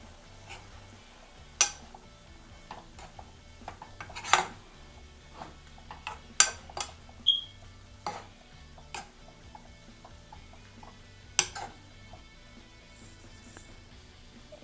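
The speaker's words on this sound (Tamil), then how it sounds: "இப்போ இதை நல்லா கலந்து விட்டுடலாம்." Mustard greens poriyal stirred in a pan, scattered scraping clicks and taps of the spoon against metal, irregular and close, over a faint low background.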